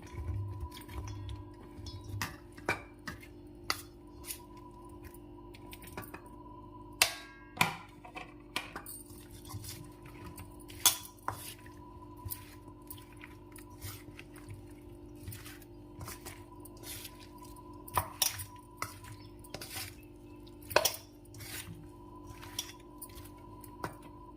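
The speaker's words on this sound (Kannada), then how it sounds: "ಕಲಸಿಟ್ಕೊಂಡ್ರೆ ಮಿಶ್ರಣಕ್ಕೆ ಹಾಗಲಕಾಯಿ ಹಾಕಿ ಕಲಸಿಡೋಣ" Bitter gourd pieces are mixed into a marinade in a bowl by hand, giving sparse wet squelches and light clicks scattered irregularly across a quiet, steady background hum.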